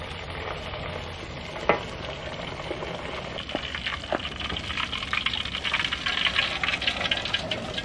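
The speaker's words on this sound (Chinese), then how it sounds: "现在油温到一定程度的全部下来哈，给它炸第二遍了" Chicken breast pieces deep-fry a second time in hot oil, giving a steady, loud sizzle and crackle throughout with a few sharp pops and a stirring clink, no voices.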